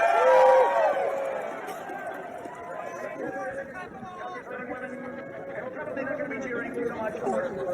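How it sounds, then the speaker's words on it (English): A large outdoor crowd at Trump's Ellipse speech on January 6th, a dense babble of many voices with shouting and cheering, steady and loud throughout. "This is from the crowd at the ellipse speech on January 6th"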